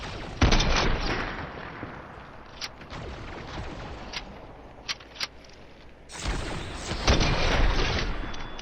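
Video-game gunfire from a shooter match: a loud burst of shots near the start, a few isolated cracks through the middle, then another heavy sustained volley toward the end, with no talking.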